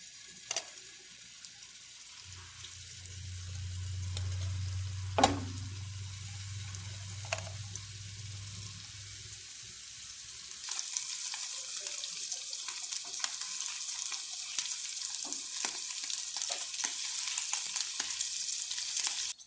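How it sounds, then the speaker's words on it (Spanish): Meatballs searing in oil in a pan make a soft, steady sizzle with a few sharp spits and clinks, later joined by a louder, brighter hiss of frying that lasts to the end. "Le voy a poner un poco de aceite para sellar nuestras bolitas de carne"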